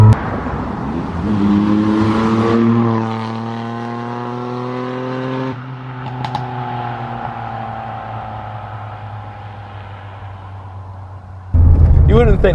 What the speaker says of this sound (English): You wouldn't think it's a little 3-cylinder, would you?